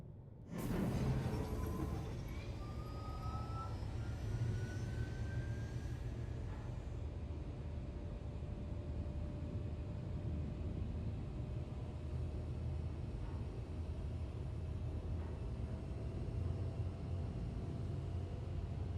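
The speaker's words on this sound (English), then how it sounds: "The shuttle is preparing to depart." A shuttle departs in a space video game: a sudden onset gives way to a steady, low, rumbling engine drone with faint rising tonal whines, holding at a constant level throughout.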